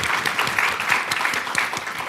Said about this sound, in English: a round of applause for all the participants tonight's evening